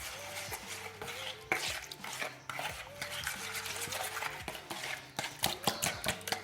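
Toothpaste cleaning paste for rough tiles being stirred and mixed in a container, a steady wet scraping and stirring texture with rhythmic strokes, close and moderately loud, over faint background music.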